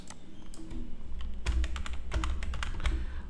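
Keys clack on a computer keyboard as a name is typed, a run of quick, close, crisp taps in uneven bursts with short pauses between them and no talking.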